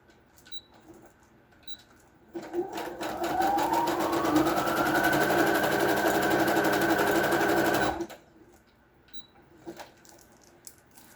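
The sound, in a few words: sewing machine sewing a zigzag stitch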